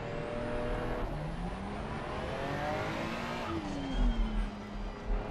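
A Ferrari 488 race car in the Assetto Corsa Competizione racing game revs and accelerates through the gears, a rising and falling engine whine that stays fairly quiet and steady.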